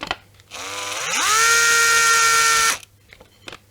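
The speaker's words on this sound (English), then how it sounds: "use a step bit to clean them up" Electric drill with a step bit cleaning out holes in an Epiphone SG guitar body, a whirring motor spinning up in pitch to a loud steady whine for over a second before stopping.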